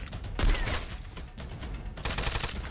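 Rapid gunfire from a shooter battle in Garena Free Fire, bursts of shots crackling close and loud, a heavy blast near the start and a denser volley later, no voices over it.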